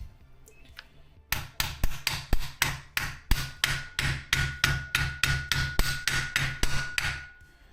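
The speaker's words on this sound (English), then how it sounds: "we hammer this in" A hammer drives a part into a GHM-9-G gas blowback airsoft SMG, about twenty quick, close metallic taps in a fast, steady rhythm after a few quiet handling sounds.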